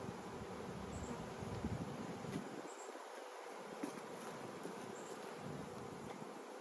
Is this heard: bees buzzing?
yes